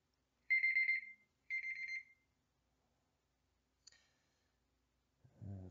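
An alarm gives two loud electronic beeps close by, each about half a second long, followed by a short click and then the start of a voice.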